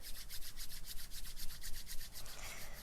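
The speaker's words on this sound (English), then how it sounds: "rub your hands together like this" Hands rubbed briskly together in a steady back-and-forth rhythm, a close, dry swishing friction repeated many times during a relaxation exercise, with no voices.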